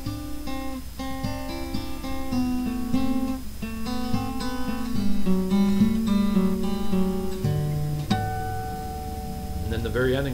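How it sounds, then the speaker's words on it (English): Slow electric guitar lick, single notes and double stops picked one after another with ringing sustain, cascading down toward the end, played alone and close without talk. "Okay, so back to this lick. Sounds like this. I'm going to play it real slow."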